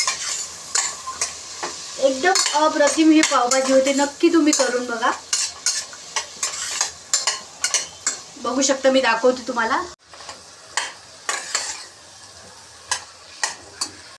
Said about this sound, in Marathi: कुकरमध्ये टाकल्यानंतर मी आता हे दोन मिनटं छानपैकी मस्त परतून घेणार आहे